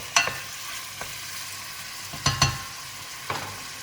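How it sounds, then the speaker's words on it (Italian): Meat browning in a pan over a high flame for a Neapolitan Genovese, a steady soft sizzle broken by a few sharp utensil scrapes and stirs, close up, with no talking. "a fiamma vivace la facciamo rosolare per qualche minuto"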